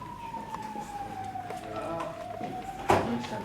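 A wailing siren drones steadily in the background while people talk, ending with a sudden sharp burst of noise.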